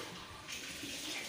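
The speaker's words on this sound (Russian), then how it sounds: "Гриша, воды поменьше, пожалуйста, напор." Water runs from a tap in a brief, steady splashing stream, moderately close with no voices.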